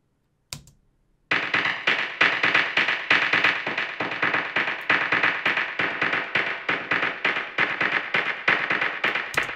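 A busy electronic acid techno percussion loop of crisp, rapid clicks and hits repeats steadily after a single opening hit.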